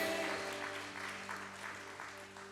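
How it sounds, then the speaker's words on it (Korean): A church congregation claps during a Sunday worship service, a steady patter of many hands spreading through the sanctuary over held organ or keyboard tones. "주님께 감사와 영광의 박수"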